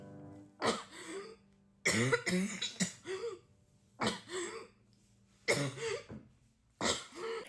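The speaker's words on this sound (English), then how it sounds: "there's a lot of shortness of breath, wheezing, chest tightness, and coughing" Several bursts of harsh coughing, some in quick double or triple clusters, separated by short quiet pauses; close and fairly loud, with no talking.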